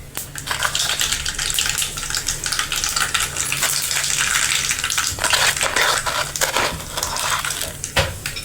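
Mustard seeds hit hot oil and crackle in dense, loud bursts of popping and spitting, with sharp pops scattered throughout on top of a steady sizzle and no one talking.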